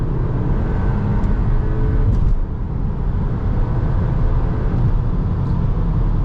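Cabin of a 2021 Cupra Formentor VZ under hard acceleration at night: a loud, dense engine and road roar holds steady throughout, mixed with rushing wind, and no one speaks.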